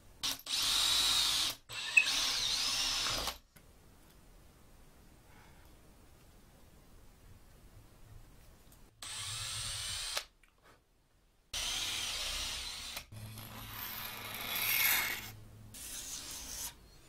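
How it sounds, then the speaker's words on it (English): A power drill bores tuner holes and a wiring cavity into a guitar body of olive and rosewood, with several loud bursts of whining drilling separated by long quiet pauses. "I need to get the tuner holes done, the wiring cavity drilled."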